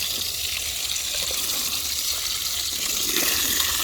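Water pours steadily from a hose or can onto garden plants during a heat wave, a continuous soft gushing hiss with no pauses.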